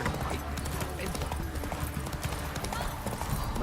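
Roach, the horse in The Witcher 3, gallops with rapid, steady hoof clip-clops close by, while voices speak over the hoofbeats.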